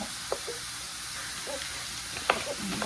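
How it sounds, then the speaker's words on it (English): A quiet, steady sizzle of food frying in a pan, with a few soft clicks and scrapes now and then. "We want to hear that sizzling."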